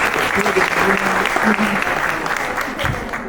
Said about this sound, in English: him a round of applause